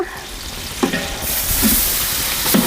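Ginger garlic paste frying in a pan gives a brisk, close sizzle, broken by a few sharp scrapes and stirring knocks.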